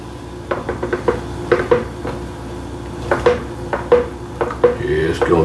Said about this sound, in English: I'm hoping I can get this skillet on there without making all that noise today